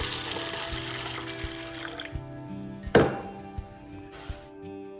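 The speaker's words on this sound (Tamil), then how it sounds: "இது வேகிறதுக்கு தண்ணி சேர்த்துக்கோங்க" Water is poured over soaked chana dal in a cooking pot while preparing Tamil suzhiyam, a rushing pour at first that fades, followed by a sharp clunk and a few small knocks of the vessel.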